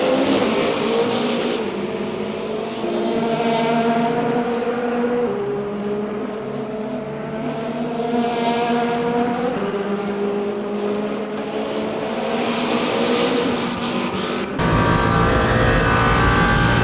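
Number 4 Penske Porsche race car in Le Mans Ultimate at the 24 Hours of Le Mans, its engine droning loud and steady with rising and falling gear pitches for the whole stretch, a sharp shift in tone near the end.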